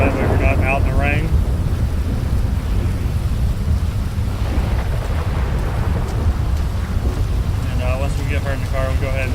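Steady rain and gusting wind roar constantly in GTA V with the LSPDFR police mod, a loud unbroken wash of storm noise, with brief voice-like radio chatter audible near the start and end.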